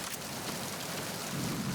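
Steady rain pours down in Metal Gear Solid 2, a dense, even hiss with a low rumble underneath, continuous and moderately loud with no talking.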